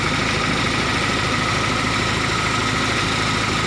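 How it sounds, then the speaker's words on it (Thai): Diesel engine of a Dongfeng plaster-spraying machine truck running steadily during a test, a constant low rumble and vibration with no breaks. "ทดสอบเครื่องจักรยิงปูนเนาะตัวนี้"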